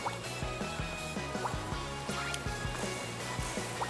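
A water wave splashes and sloshes in the video game Penny's Big Breakaway, a steady watery wash under regular rhythmic thumps of game music, fairly loud and with no talk.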